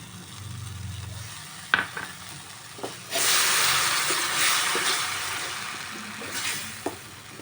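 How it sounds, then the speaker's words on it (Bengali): Tamarind water hits tomato chutney frying in a pan, setting off a loud, sustained sizzle and hiss after a few knocks of a spoon. Occasional stirring taps follow as the sizzle slowly fades, close and without talk. "আমি এবার এই তেঁতুল জলটা দিয়ে দেব"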